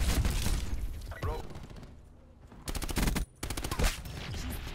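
Rapid automatic gunfire from the Swordfish weapon in the shooter game Call of Duty Black Ops 4 comes in loud close bursts separated by brief pauses, with a short lull in the middle.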